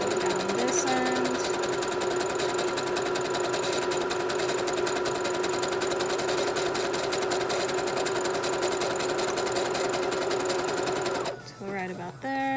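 A sewing machine runs steadily, stitching glossy fabric for a face mask with elastic, a loud continuous whirring drone that stops abruptly near the end, with faint background music underneath.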